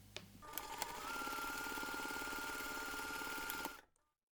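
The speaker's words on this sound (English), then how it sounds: "we're going to take this to the machine and we're going to sew both seams using 1 centimeter seam allowance" An electric sewing machine stitches the seams of a fabric jewellery pouch, starting with a few clicks before a steady, fast mechanical whir that runs for a few seconds, then winds down to silence.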